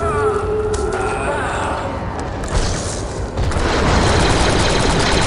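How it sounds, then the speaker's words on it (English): A demolition charge detonates in the Star Wars Republic Commando video game, a loud dense boom and rumble that rolls on under continuous gunfire and battle noise. "The charge is set and ready to detonate."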